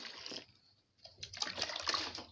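Water pours and splashes into a container while liquid soap is mixed. The flow is brief and fairly quiet, stops for a moment, then returns with a stronger splashing.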